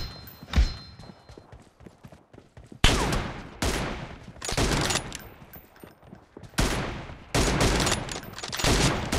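Bursts of gunfire in PUBG Mobile during an M24 duo-versus-duo team deathmatch, arriving as several loud clustered volleys separated by short gaps, with faint rattling shots in between.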